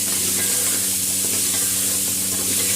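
Vadiyan are stirred into a curry frying in a pan, giving a loud, steady sizzle and hiss with faint scraping of the stirring throughout.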